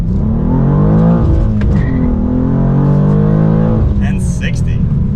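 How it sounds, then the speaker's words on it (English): A 2023 BMW M2 with a manual gearbox does a launch control start, its engine droning loud and steady as it pulls hard through the gear, rising in pitch, with a brief high chirp near the end. "might as well do a launch control. Pretty fun doing launch in this car."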